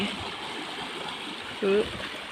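Strong, fast-flowing river with a steady, close rushing wash throughout and a brief voice near the end.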